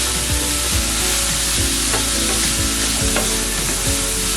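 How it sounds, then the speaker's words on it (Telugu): Beetroot pieces fry in a pan for a beetroot fry with chana dal and coconut, giving a constant close sizzle broken by regular scraping stirs of a spatula, with no voices. "బీట్రూట్ ముక్కలు వేస్తున్నా."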